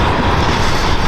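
Train rumbling past close by, a loud continuous roar of wheels and carriages filling the brief moment with no voices.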